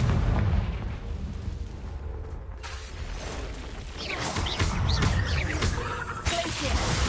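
A Confringo fire spell bursts in the Hogwarts Legacy video game, giving a booming blast over dense rumbling combat noise, followed by further crackling impacts and mechanical rattles.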